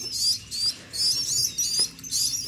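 Several white starlings chirp in rapid, high-pitched bursts, repeating in quick succession close by, with a few soft clicks between the calls.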